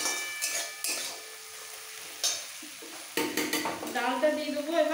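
Spinach stirred with dry spices such as coriander powder in a pan for mung dal, a spatula clattering against metal over a steady sizzle, with a few louder scraping strokes near the end.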